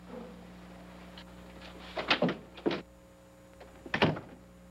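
In a 1949 film-noir office scene, a door is opened and shut: a run of soft clunks and a latch thud, then a firmer bump about two seconds later, fairly close over a quiet steady room hum.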